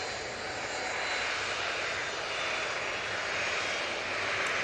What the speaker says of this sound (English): We've got Jet2 in the .com livery, 737.